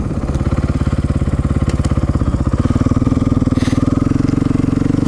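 A KTM 450 Six Days motorcycle engine runs steadily and loud up close, its rapid single-cylinder firing pulses revving slightly higher midway, with no talking.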